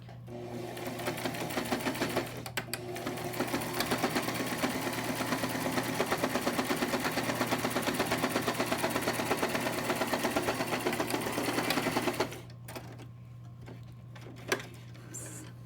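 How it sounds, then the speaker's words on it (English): A sewing machine stitches fabric in a fast, even mechanical chatter that runs for about twelve seconds, then stops, leaving a quiet hum and a single soft click. "sew down here, leaving all of that open"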